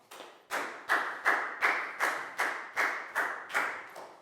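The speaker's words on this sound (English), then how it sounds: "Big round of applause for Pat" A Year 4 class claps together for a pupil during a science lesson. Nine loud, evenly spaced group claps land in a steady beat, each burst decaying briefly before the next, with no talking.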